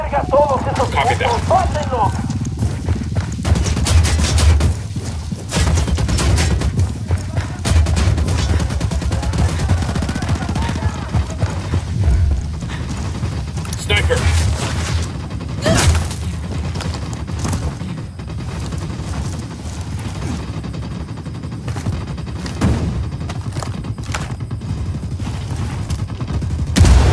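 Gunfire in the video game Ghost Recon Wildlands, bursts of automatic rifle fire and single shots crackling loudly through a firefight, with voices talking over the shooting.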